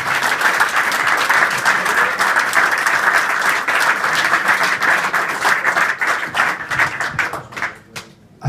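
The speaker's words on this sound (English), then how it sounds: "Round of applause as we welcome to the floor the man behind MBS Site Supplies." Loud, sustained applause from an audience welcoming a speaker to the floor at a company launch event for a site supplies business, dense clapping that thins out and fades near the end.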